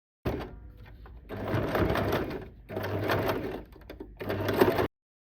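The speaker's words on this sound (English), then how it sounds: "Now top stitch the double folded tip." A sewing machine top stitches the double-folded tip of a sling bag strap, running in three close, even bursts of whirring stitching with brief pauses between them.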